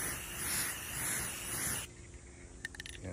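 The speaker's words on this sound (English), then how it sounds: "let's spray it with some lacquer here." Clear lacquer hisses from a spray can onto a wooden hiking stick in one loud, close burst that stops abruptly after almost two seconds, followed by faint handling clicks.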